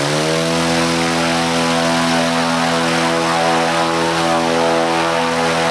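A CNC-machined propeller on an alternator hub spins at full throttle, a loud, steady droning whir with strong harmonic tones that holds constant throughout.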